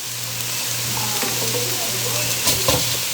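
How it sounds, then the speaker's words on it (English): Tomato paste frying in a pot of beef pot pie base, a steady close sizzle over a low hum, followed by a few louder stirring scrapes and clinks toward the end. "Allow that tomato paste to fry into that as well."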